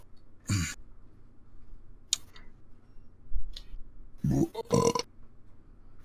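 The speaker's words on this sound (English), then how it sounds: "I just make weird burps" A person lets out several short, close, rough burps separated by pauses, with faint clicks and ticks in the quiet between them.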